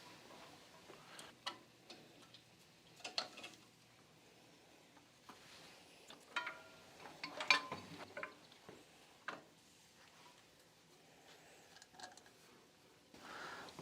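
A socket wrench ratchets in faint, irregular bursts of small clicks while loosening fasteners on the ignition coil of a Kohler engine on a 1996 Craftsman riding tractor, heard close up in a quiet setting.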